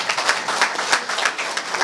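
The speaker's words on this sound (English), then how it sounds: "Please clap for him." A meeting audience claps in a dense, steady burst of many hands honoring a senator, the applause fairly loud and continuous throughout with no talk over it.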